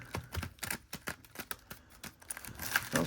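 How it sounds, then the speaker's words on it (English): Topps Chrome trading card packs are shuffled by hand, giving a quick, irregular run of close, crisp crinkling taps and slaps of foil wrappers, fairly quiet and without talk. "We're going to give a little shuffle here."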